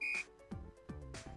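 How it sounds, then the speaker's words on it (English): A sharp electronic whistle tone sounds twice in the video game Wii Fit Plus, once at the start and once at the end, with rhythmic musical thumps and chimes between them. "Whistle."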